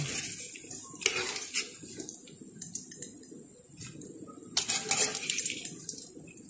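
Freshly fried french fries clatter and rattle in a metal strainer as the oil drains off, with scattered clinks of metal and a denser burst of jostling near the end; no voices.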